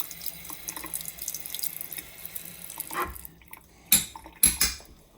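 A kitchen tap runs water while a spoon is rinsed, a soft steady stream followed by a few sharp metallic clinks and knocks of the spoon near the end.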